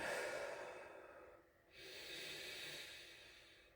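Slow, deep breathing during a shoulder and back stretching exercise: a long audible breath out, a short pause, then a steady inhale, heard close and quiet.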